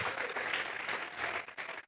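A church congregation breaks into sustained applause, dense and steady clapping from many hands filling the room for a couple of seconds before tapering off abruptly.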